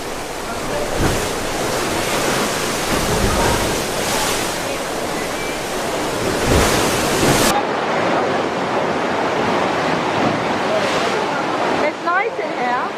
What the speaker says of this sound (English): look at this surge of water.